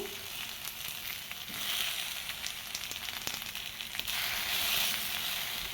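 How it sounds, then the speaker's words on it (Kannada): Okra sizzles steadily in a hot pan while being fried for a sour curry, a dense, continuous crackle close up with no talking over it. "ಚೆನ್ನಾಗಿ ಹುರ್ಕೊಳ್ಳೋಣ ಇವಾಗ"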